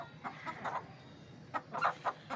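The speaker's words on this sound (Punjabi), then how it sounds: "ਇੱਕ ਆਹ ਪੱਠੀ ਹੈ, ਬੜੀ ਵਧੀਆ ਪੱਠੀ ਜੀ, ਸਲੇਟੀ ਭੈਣ ਸਲੇਟੀ ਇਹ ਉਸ ਸਲੇਟੀ ਦੀ ਹੀ ਪੱਠੀ ਹੈ" An Aseel pullet gives a few soft, quiet clucks in short irregular bursts, with a brief pause between groups and no talk over them.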